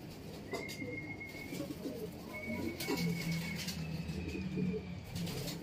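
Several racing pigeons coo in low, repeated murmuring phrases against a steady outdoor background, with a faint high whistle-like tone drifting in and out.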